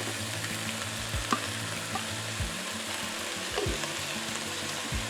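Rice stirred into frozen broccoli sizzling in a pan, a soft steady frying hiss with repeated scraping stirs and light clinks, close and fairly quiet, no talking.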